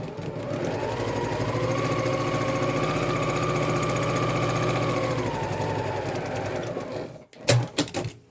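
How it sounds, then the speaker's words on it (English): A sewing machine stitching a seam on a messenger bag pocket runs in one steady, close whirring burst for about seven seconds, then stops, followed by a few sharp handling clicks. "I'm going to stitch the seam closed"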